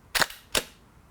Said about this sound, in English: and press the shutter.